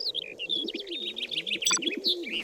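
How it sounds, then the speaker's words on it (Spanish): Several birds sing and chirp together in a busy chorus, with cooing doves low underneath and higher tweets flitting above, steady and close. "El canto de los pájaros,"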